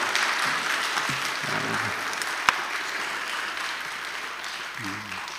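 A church congregation at Sunday worship claps for a performer after a hymn, a steady sustained wash of applause with a few low voices murmuring through it.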